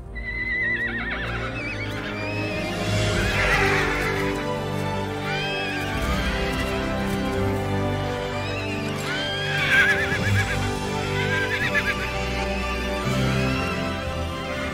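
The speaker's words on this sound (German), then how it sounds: "Soldat! Halten Sie das Pferd fest!" A horse whinnies loudly several times, high shrill neighs rising and falling, with faint hoof clip-clops and movement in the background.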